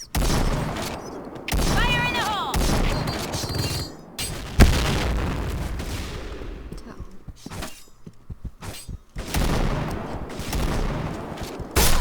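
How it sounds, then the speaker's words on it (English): A grenade goes off in the Point Blank online shooter amid a busy firefight, with loud repeated blasts and sustained gunfire filling the mix and a sharp impact standing out partway through. "Fire in the hole!"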